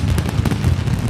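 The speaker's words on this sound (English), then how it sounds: "The Mascleta fireworks make the windows of City Hall reverberate, shaken by the firecrackers and the sound of thunder" Mascleta firecrackers in a Valencia city square during Las Fallas go off in a dense, rapid volley of loud booming blasts that rumble continuously.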